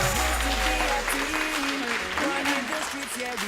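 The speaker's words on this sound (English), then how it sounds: "Round of applause to the team." Audience applause at a national school debate prize-giving for the Kokopo Secondary team, steady clapping throughout with music playing over it.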